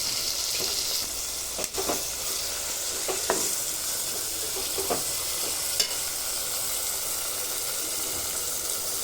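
Continuous oil sizzle of spices frying for tempering crackles throughout, with a few sharp spatters and pops rising above the steady frying hiss; no one speaks.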